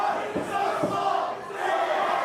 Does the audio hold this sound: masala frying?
no